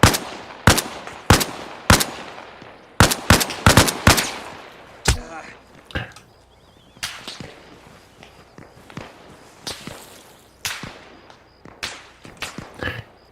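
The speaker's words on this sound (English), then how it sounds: "This gunfire is the last of my rounds" Bursts of automatic rifle fire in ARMA Reforger, a military game, ring out in sharp close volleys and single shots, tapering to sparser distant pops and footsteps toward the end.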